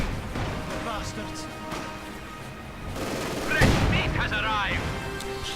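Gunfire and explosive grenade-launcher shots from Company of Heroes 2, a real-time strategy game with Soviet Granatenwerfer and grenadier infantry, crackle and boom at close range under steady commentator talk.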